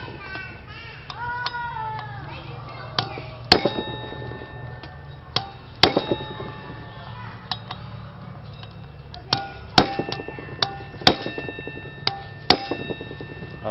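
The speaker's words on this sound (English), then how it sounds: "use a little hammer, because you just want the hit going into here in the bolt" Sharp metallic strikes of a small hammer on a bolt while removing a brake rotor ring out at irregular intervals, some single and some in quick pairs, over a low steady hum with faint background voices.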